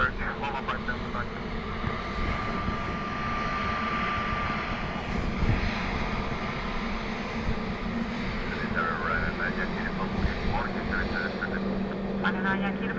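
An airliner lands at Dublin Airport in blustery crosswinds, a steady rumbling engine roar heard from a distance under continuous air traffic control radio chatter.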